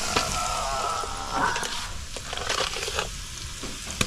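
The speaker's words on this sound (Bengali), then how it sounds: "এরপরে পড়ে গেল হলুদ কড়াইয়ে" Spice paste frying in a kadai after turmeric goes in, a continuous sizzle with scraping stirs and a few sharp knocks of the spoon against the pan.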